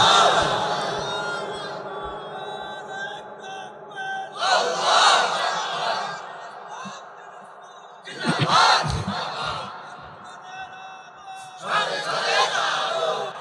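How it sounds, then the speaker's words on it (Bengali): A large crowd at an Islamic sermon shouts the takbir slogan in unison. Loud massed chants break out in repeated bursts, and a leader's calls fill the gaps between them. "এবার তাকবীর দেব, একটু স্লোগান দেবেন, লিল্লাহে তাকবীর"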